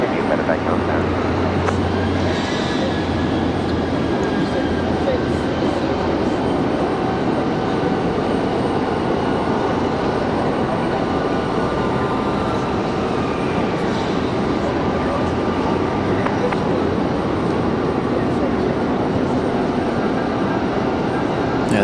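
An airplane at Raleigh Durham International Airport gives off a broad, steady engine roar that holds for the whole stretch, loud and continuous, with faint talk and radio chatter beneath it.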